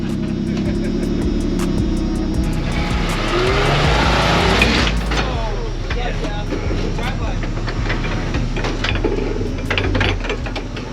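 A rock crawler driving hard up a rock ledge, its engine revving loudly and straining near the mic, with bursts of tire and drivetrain noise over the climb.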